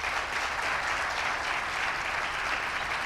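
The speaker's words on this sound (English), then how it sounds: "could you please give a round of applause for our lovely panelists?" Audience applauding panelists at an international business panel during a business and tourism career week, a steady, dense wash of clapping from a roomful of people, loud and continuous with no speech.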